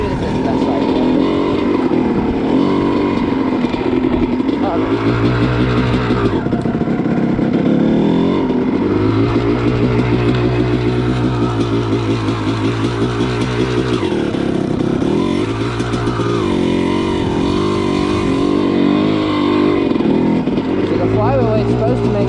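A Honda CR250 two-stroke dirt bike roars steadily throughout while being ridden, its engine loud and close, rising and falling with throttle, with a rider's voice talking over it.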